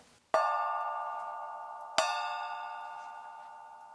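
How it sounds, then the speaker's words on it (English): A tiny cymbal is struck twice on its bell, about a second and a half apart. Each hit gives a bright, ringing metallic tone that sustains and slowly fades. "The bell is a brighter sound."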